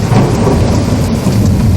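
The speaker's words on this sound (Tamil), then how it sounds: "மேகங்கள் கர்ஜித்து மின்னல் பளிச்சிட்டது. மழை வெள்ளமாய் பொழியத் தொடங்கியது." Thunder rumbling over a heavy downpour of rain, loud and continuous throughout with a deep low roll beneath the dense hiss of rainfall.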